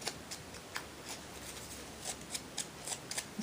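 Scissors cutting around a handmade thank-you card, a steady series of quiet, close snips ticking along at an even pace with no talking.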